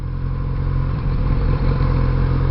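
A Kawasaki Z900RS motorcycle engine runs smoothly in sixth gear at low speed, a steady, close, continuous low rumble with no voices.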